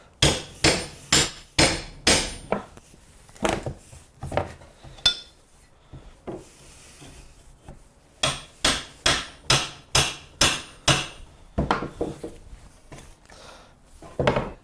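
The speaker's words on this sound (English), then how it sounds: "I still have to use my pry bar and hammer to get this slat off" Sharp metallic hammer blows strike a wooden pallet slat, with a pry bar, in quick rhythmic runs of several hits, with short pauses between bursts, close and loud.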